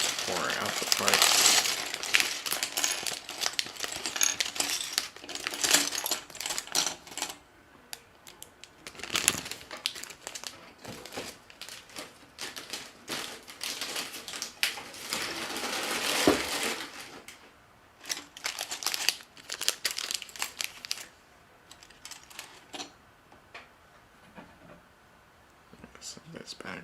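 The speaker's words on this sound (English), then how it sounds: "Pouring out the parts." Plastic Lego Star Wars TIE fighter pieces clatter and rattle as they are poured out of a bag in bursts, close by, with a soft voice faintly underneath.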